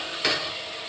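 Onions and green chilies sauté in a pan, a steady soft sizzle with one brief clack of a stirring spoon near the start.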